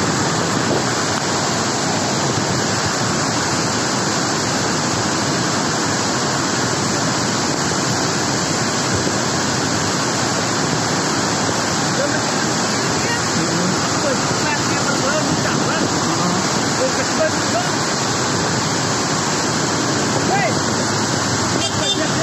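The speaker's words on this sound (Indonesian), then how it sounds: "Banjir bandang loh, banjir bandang Sungai Tulis." Flash-flood water of the Tulis River surges through the dam floodgate of the Tulis hydropower plant at Pagentan, Banjarnegara, making a loud, close, unbroken rushing roar that does not let up.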